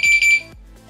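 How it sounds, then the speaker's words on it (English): An 8kW enduro eBike's alarm, armed with a key fob, gives a short, loud, shrill electronic beep, two quick chirps lasting under half a second, then fades to quiet. "it does that beep, and that means it's armed"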